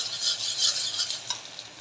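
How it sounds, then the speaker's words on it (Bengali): Chopped garlic and onion fry in mustard oil, producing a soft, close hiss with light stirring scrapes over a short moment. "রসুন কুচি দিয়ে দেবো আর পেঁয়াজ কুচি দিয়ে দেব দিয়ে ভালো করে লাল লাল করে ভেজে নেব"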